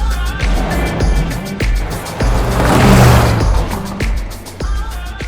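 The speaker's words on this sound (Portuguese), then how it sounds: "Solta a vinheta aí, Kio!" A short intro jingle for a Renault Kardian 2026 SUV segment, loud and punchy with rhythmic beats, whooshing swells and a rising surge mid-way, no voices over it.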